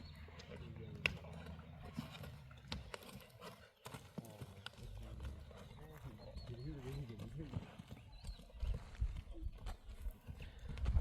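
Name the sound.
horse hooves clip-clopping as a Kyrgyz horse is walked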